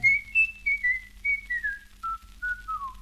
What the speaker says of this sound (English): whistling my worries away